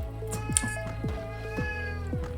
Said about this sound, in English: Okay, that was my cat.